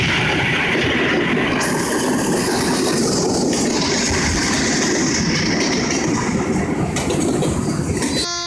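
A train rumbles past loudly and steadily, a continuous heavy rolling roar with rail clatter that holds for the whole stretch.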